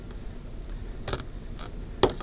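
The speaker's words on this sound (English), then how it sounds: "Take my scissors, cut straight" Scissors snip through a frosted planner tab divider in a few short, crisp cuts, with a louder final snip near the end, close up and with no talk.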